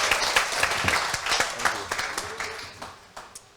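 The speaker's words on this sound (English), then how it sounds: "can we give a round of applause one more time for Kwame?" An audience claps for a panelist at a mental health talk, with distinct hand claps that start loud and taper off toward the end.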